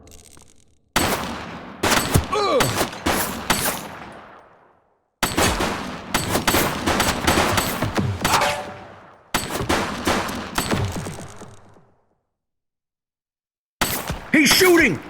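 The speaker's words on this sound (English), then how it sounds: "He's shooting!" Repeated bursts of rapid gunfire from The Precinct police game, several volleys of loud close shots separated by brief silences, with a final burst at the end and no talk.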